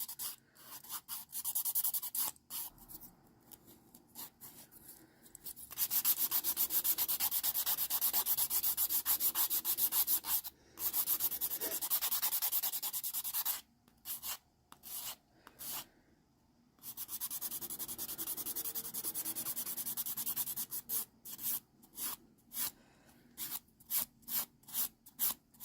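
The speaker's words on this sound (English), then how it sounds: "We are completely done filing." A nail file rasps over dip powder manicure nails in close, dry scratchy strokes, with long continuous passes broken by short pauses and a run of quick rhythmic strokes toward the end.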